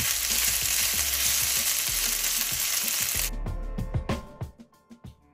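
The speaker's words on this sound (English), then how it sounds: "add olive oil to kind of fry the beef" Beef sears in olive oil with a dense, loud sizzle and steady crackle, punctuated by stirring scrapes. The frying noise cuts off partway through and leaves a run of sharp knocks and clatters.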